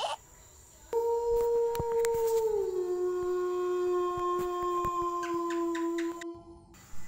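A dog gives a long, drawn-out night howl, used as a horror sound effect. The single sustained wailing tone dips slightly in pitch partway through and holds for about six seconds over faint crickets.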